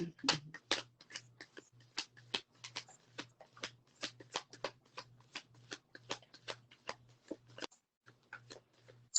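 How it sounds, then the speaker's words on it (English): A deck of tarot cards is shuffled by hand, giving a quiet, steady run of crisp papery slaps and flicks in an even rhythm, close and alone with no talk. "this was on the bottom of the deck that I was shuffling"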